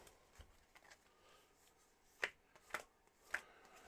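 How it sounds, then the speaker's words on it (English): A tarot deck is shuffled quietly: faint papery riffles give way to three sharp card slaps spaced about half a second apart, close and alone. "One more shuffle, Jing."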